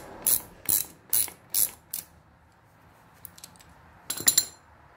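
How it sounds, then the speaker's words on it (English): A ratchet loosening nylon nuts on the air filter cover of a 1985 Harley-Davidson FLHT Evolution, five quick close clicking bursts in a row, a pause with faint small taps, then a final cluster of rapid clicks. "Take these nylon nuts off."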